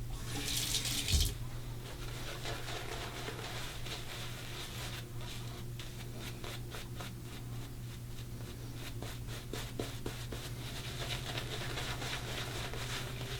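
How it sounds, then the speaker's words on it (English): Hot water runs steadily from a tap into a sink during a wet shave, a constant close hiss and splash lasting throughout with a brief louder gush near the start. "A little hot water."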